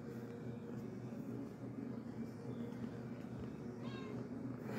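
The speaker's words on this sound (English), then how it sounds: "Listen to that purr." A calm cat purrs softly and continuously, a low, steady rumble that holds at an even, quiet level throughout, with no voices over it.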